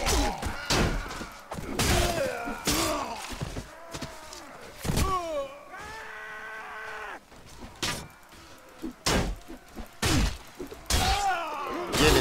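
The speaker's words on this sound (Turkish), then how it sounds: "Bak hala kalkan vuruyor ya" Weapons strike shields in Mount & Blade: Warband, heard as repeated heavy thuds and clangs in irregular bursts. They come amid battle groans and shouts, with a sustained tonal cry partway through.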